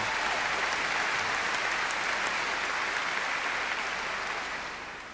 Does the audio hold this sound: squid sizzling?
no